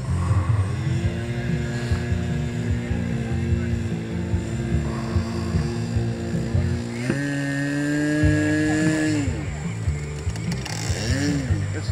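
An HK450 RC helicopter flies nearby with a steady whining rotor and motor drone that rises in pitch partway through as it manoeuvres, heard alone without talk.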